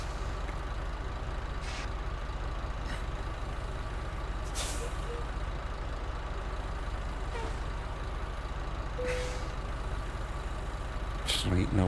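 Truck air brakes hiss in short bursts over a steady diesel engine rumble while a heavy rig with trailer is maneuvered and reversed into a tight spot; a voice talks throughout.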